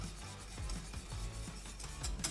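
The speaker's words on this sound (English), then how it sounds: "Every so often I'm gonna hit it with that whisk." A whisk stirs vanilla pastry cream as it thickens in a pot, making soft rhythmic scraping and rubbing strokes that stay faint and close throughout.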